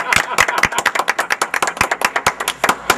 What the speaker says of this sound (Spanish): Vamos a eso con aplausos